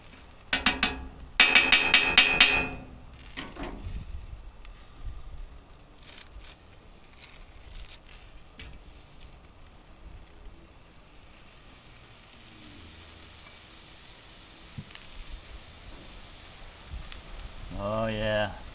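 Shrimp hit a hot Traeger Flatrock griddle with garlic and butter and sizzle steadily at a low, even hiss for a long stretch, after some clanking of utensils at the start and someone talking at the end.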